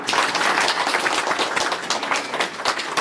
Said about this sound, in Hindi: एक बार उसके नाम के हम लोग जोरदार ताली बजाएंगे